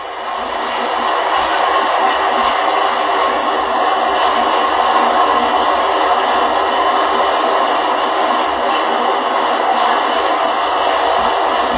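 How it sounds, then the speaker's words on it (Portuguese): A sugarcane harvester's fan blows leftover straw out during the final deposit stage, producing a loud, continuous airy roar that holds steady throughout with no voices. "Alguma palha que sobre ainda aqui no carregamento, ela é soprada por esse ventilador no processo final aqui de deposição."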